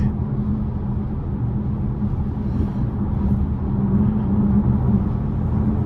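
Inside a 2022 Volkswagen Arteon SEL R-Line with a 300 hp 2.0-litre turbo four and dual-clutch gearbox, a steady low engine drone and road rumble fill the cabin while driving.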